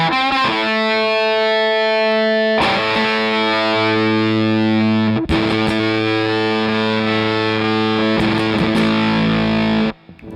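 A Yamaha Custom Shop 11-string guitar rings out through a nasal character effect, loud sustained chords and notes with a distorted, buzzy tone, restruck a few times and then cut off abruptly.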